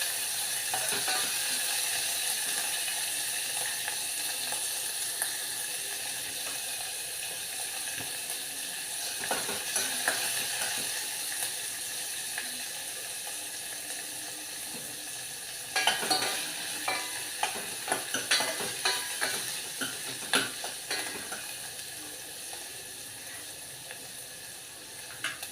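Chopped onion sizzles steadily in a pan while cooking for spinach dal, with a constant frying hiss, occasional soft stirring scrapes and a denser run of clicks and taps in the latter part; no one speaks.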